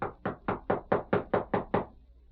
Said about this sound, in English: Knock on the door again.